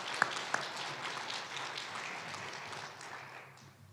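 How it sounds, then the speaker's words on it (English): Faint, distant applause from an audience at an Air Force retirement ceremony at Scott Air Force Base, Illinois, a soft steady patter with two sharper nearby claps early on, fading toward the end. "how about a round of applause for all the folks that worked so hard on this ceremony"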